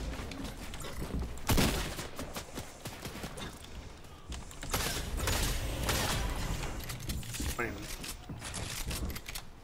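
Rockets slamming into player-built structures in Fortnite, giving repeated crashing impacts and crunching debris amid gunfire-like bursts, with voices talking over the action.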